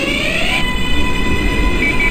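A New York Q line subway train on the way to Coney Island, running with a loud, steady rumble and a thin high whine that holds throughout.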